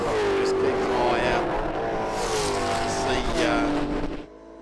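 Race cars, a turbocharged one among them, sweep past loud on the Winton circuit with rising and falling engine notes, as a commentator talks throughout.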